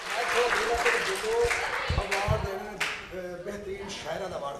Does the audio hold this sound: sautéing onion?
no